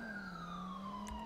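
A police siren in the game GTA with the LSPDFR mod wails steadily in a long falling sweep, faint and electronic-sounding, with a brief hiss near the end.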